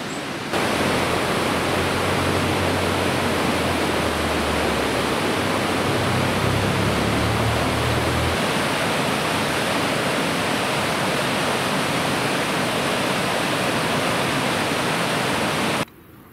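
A mountain stream rushing through a deep canyon beneath a bridge, a loud, steady, broadband roar of water running unbroken from start to finish.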